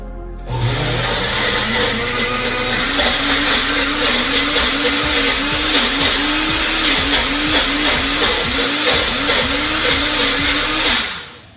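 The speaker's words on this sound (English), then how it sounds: "You literally just put it on the blender and press it down and turn, and it pretty much does the work itself from there" A Magic Bullet blender whirs loudly and steadily for about eleven seconds with a rapidly pulsing motor drone, starting abruptly and cutting off at the end.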